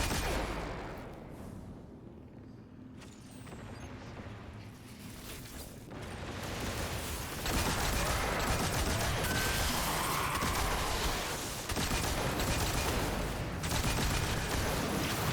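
Enemy gunfire in Destiny 2, a dense, sustained roar of rapid shots and impacts that builds in loudness and stays thick and continuous to the end.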